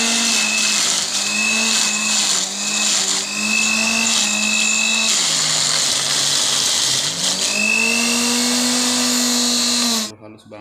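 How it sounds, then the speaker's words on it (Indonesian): An electric blender whirs loudly as it blends chili with a little water for pepes ikan patin tempoyak, the motor pitch dipping and rising under load before it cuts off near the end. "Kita blender dulu."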